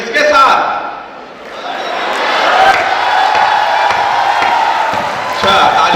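Audience at a Hindi comedy poetry show (hasya kavi sammelan) breaking into a burst of applause and crowd noise, with a performer's voice talking over and around it.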